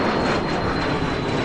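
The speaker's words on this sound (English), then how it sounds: "This is United Express flight 4766 heading to ORD." A United Express airliner passing at Louisville's SDF airport, already high overhead: a steady, broad engine roar that holds loud and even throughout, with no voices.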